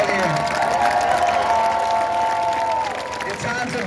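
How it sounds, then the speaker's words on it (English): A rally crowd demanding stricter gun-control laws applauds and cheers for its young people, a steady wash of clapping and whoops that holds loud and even throughout before easing slightly at the end. "So I wanted us to give us a round of applause for the young people out here"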